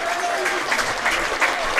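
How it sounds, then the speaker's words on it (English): Crowd applause at a football match, the 2017 Lakoseljac Cup Final between Glenorchy Knights and Olympia Warriors, a steady patter of clapping from spectators with a faint voice underneath. "just gets the round of applause there from the crowd too"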